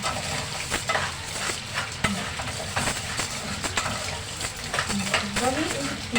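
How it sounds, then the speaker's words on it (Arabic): Pasta coated in a little oil stirred and frying in a pan, a steady crackling sizzle with scraping stir strokes running throughout, close and fairly loud, with no talk over it. "احنا غلفنا المكرونه بتاعتنا كلها بالزيت زي ما انت شايفه كده"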